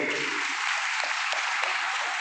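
An audience claps at a school Founder's Day debate event, producing dense, sustained applause that stays loud and even throughout, with no voices standing out.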